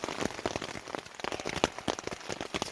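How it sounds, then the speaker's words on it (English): Rain pattering on a backpacking tent in Algonquin Park, a steady dense spatter of close drops with sharper individual taps scattered throughout, no voices. "rain's getting inside the tent"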